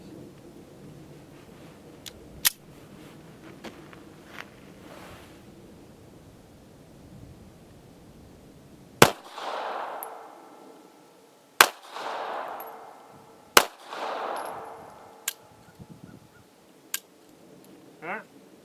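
Taurus Spectrum pistol firing factory ammo at an outdoor range: a handful of sharp, isolated cracks spaced seconds apart, moderately distant, with faint ambient noise between shots.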